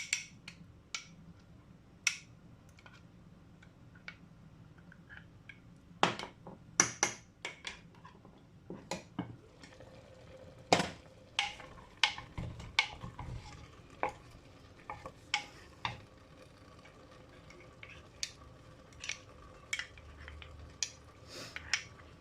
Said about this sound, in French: je fais mon mélange et je le mets dans la soupe